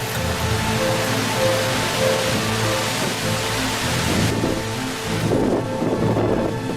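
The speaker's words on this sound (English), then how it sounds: "a lightning bolt, swift as a flash in a photo studio, tears through the tranquil atmosphere, jolting the entire city awake" Deep rumbling thunder rolls on after a lightning strike over a city, loud and sustained, under steady heavy rain hitting surfaces.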